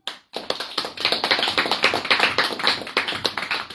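A studio crew claps in on a live urban radio show, a burst of quick, dense hand claps close to the microphone after a brief silence, continuing evenly for a few seconds with no talk.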